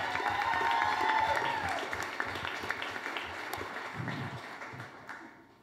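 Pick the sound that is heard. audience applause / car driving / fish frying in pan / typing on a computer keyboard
audience applause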